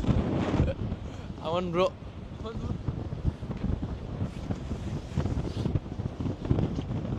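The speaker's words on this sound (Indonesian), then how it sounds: "Ini kita belum ke ujung trailnya aja, anginnya udah sekencang ini." Strong gusts buffet the microphone on a windmill trail in Jeju, roaring steadily under brief talk from a nearby voice.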